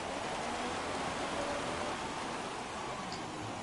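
Rain in F1 2017 during a race at Singapore, a steady dense hiss of falling rain and spray, uniform and fairly loud, with no voices.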